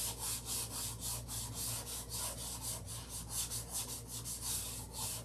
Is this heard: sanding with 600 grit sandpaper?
yes